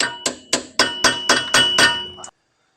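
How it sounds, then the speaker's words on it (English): Seven sharp metallic hammer blows on a punch, staking a nut during rear brake work on a 1971 Toyota Celica TA22, struck in a steady rhythm, close and ringing, then silence. "Punch that back in."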